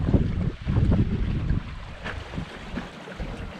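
A sailboat running under genoa alone in freshening wind against the current, at close to four knots: steady wind rush and buffeting on the microphone with water swishing along the hull, loud at first and easing toward the end.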